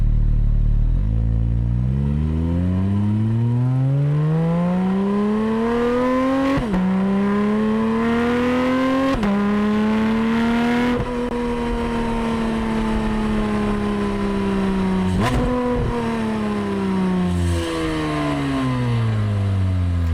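A Porsche 718 Cayman GT4 RS engine revs hard through repeated upshifts, each pull rising in pitch before a sharp shift drops it back, loud and close with a rasping, high-revving flat-six tone.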